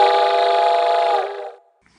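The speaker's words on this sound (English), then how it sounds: "Suddenly, the train gave out a loud blast on the whistle, and Joe realized that the train was close." A single loud train whistle blast, a sustained harmonic tone held for over a second before cutting off into silence.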